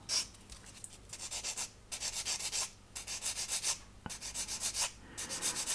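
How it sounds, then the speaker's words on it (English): A 400 grit sanding sponge rubs a small part for a Trumpeter 1/200 Scharnhorst model ship in quick bursts of back-and-forth scratchy strokes, separated by short pauses, close and fairly loud. "So I'm using a 400 sponge here, and we're just going to take down the nub area only."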